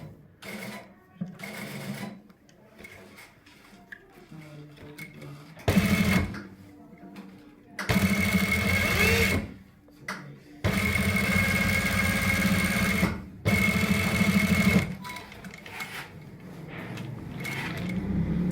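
Sewing machine stitching a fabric strip along a chalk mark from the closed side, running in several loud bursts of steady whirring separated by pauses, close up with no talking.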